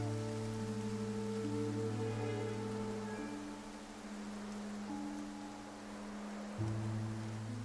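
Steady rain falls in the video game Infinity Nikki, a soft hiss of drops beneath louder sustained game music tones.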